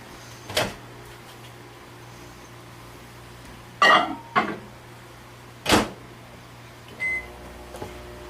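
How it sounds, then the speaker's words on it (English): A microwave oven running with a faint steady hum, broken by several sharp knocks and clunks like the door opening and closing, and a short beep toward the end. "now I'm going to get Josh to help me to pop this back in the microwave for another 30 seconds"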